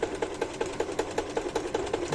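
A sewing machine stitches the fabric of a children's mouse-shaped bag, running in a quick, even chatter of needle strokes, close up and steady for a couple of seconds.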